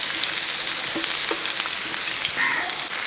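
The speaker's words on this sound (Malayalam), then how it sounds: "വെളുത്തുള്ളി പച്ചമുളക് ഒന്ന് ഇളക്കി കൊടുത്തതിന് ശേഷം ആ സവോളയും കൂടെ അങ്ങോട്ടിട്ട് കൊടുക്കുക" Garlic, green chilli and onion sizzle steadily in hot oil in a pan, a continuous bright frying hiss with occasional soft scrapes and clicks from stirring, close and fairly loud, no talking.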